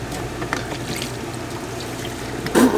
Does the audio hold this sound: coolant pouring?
yes